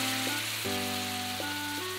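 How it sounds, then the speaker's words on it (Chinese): Hamburger steak of mixed ground meat sizzling in a pan after water is added to steam it, a close, bright, continuous hiss crackling under a low steady hum. "汉堡肉煎到两面都上色后，加入水来蒸煮，让中心熟透。"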